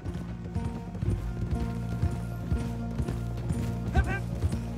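Horse hooves clip-clopping in Red Dead Redemption 2, a steady close trot of clopping steps approaching stables, with a brief whinny near the end over low background music.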